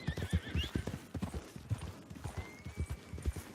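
A horse in the Red Dead Redemption 2 video game clip-clops along in a steady walking rhythm of close hoofbeats, with a high whinny cutting in near the start and again later.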